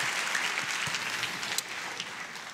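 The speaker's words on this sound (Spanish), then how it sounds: "Tengo el aplauso más fuerte al Rey." Church congregation clapping for the King during a worship service, steady massed applause at a moderate distance with a few sharper individual claps standing out.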